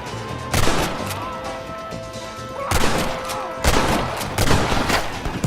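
Several loud bursts of close gunfire crack out in clusters in the Western game Red Dead Redemption during a shootout, with shouting and game action between the volleys.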